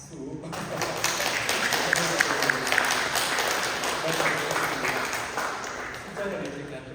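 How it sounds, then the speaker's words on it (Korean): A Sunday church congregation in Dallas applauds a visiting deacon, steady dense clapping filling the room for several seconds at a moderate level, with voices murmuring underneath. "우리 박수."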